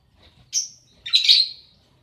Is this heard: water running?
no